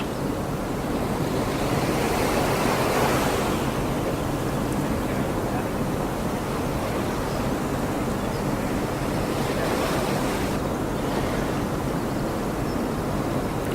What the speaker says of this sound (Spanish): Piensa en olas.